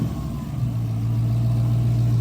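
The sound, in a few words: supercharged car engine revving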